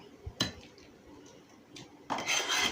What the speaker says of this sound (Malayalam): മാറ്റി വെച്ച കപ്പ മസാലയിൽ ചേർത്തിളക്കണം.